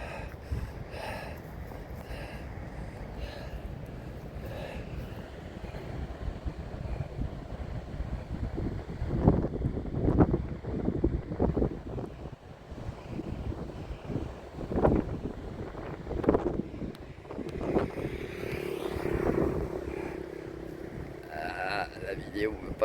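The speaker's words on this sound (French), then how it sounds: "Beaucoup de vent." Strong wind buffeting the microphone on a road ride out of Da Nang, a continuous rushing roar with repeated louder gusts, while someone speaks French over it.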